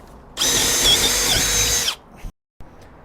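A Milwaukee M12 hammer drill/driver (model 3404) bores 3/8 inch holes in one loud, sustained whine of about a second and a half, close up, then cuts off into a brief pause and faint handling sounds.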